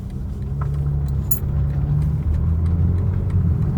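A BMW G80 M3 engine with a 4-inch midpipe hums low and steady under load going uphill, rumbling continuously with a brief jingle of keys partway through.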